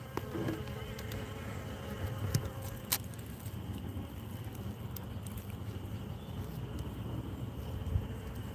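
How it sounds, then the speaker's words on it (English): Faint steady humming of bees at a hive, a low continuous drone with a few scattered clicks and knocks, no talking. "I'm hearing some humming, but I'm not seeing very much."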